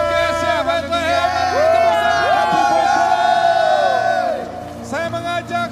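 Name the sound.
audience clapping and cheering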